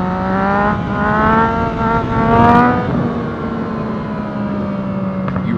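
A car engine revs with rising harmonic tones that climb in pitch, dip briefly as the gear changes mid-clip, then settle into a steady drone, loud and close with no talking.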